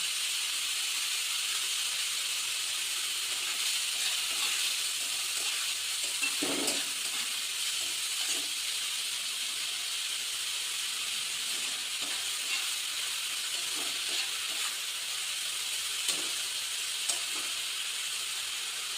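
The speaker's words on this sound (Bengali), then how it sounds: "পেঁয়াজগুলো একটু ব্রাউন কালার করে ভেজে দিতে হবে।" Onions with a little turmeric sizzle and fry steadily in a pan for a Sunday mutton curry, a continuous close hiss of bubbling oil with occasional soft stirs, and no talk.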